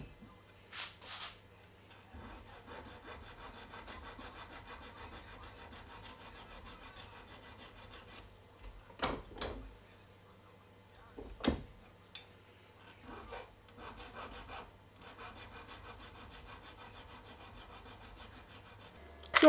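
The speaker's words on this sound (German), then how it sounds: "Das machen wir im Schraubstock mit der Feile." A hand file rasps back and forth over small aluminium parts clamped in a vise while they are deburred, a steady close scraping broken by a few louder knocks and handling noises.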